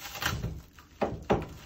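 A Nova sliding closet door is fitted and moved along its track, giving a few short knocks and bumps, two sharper ones close together near the end, with no speech.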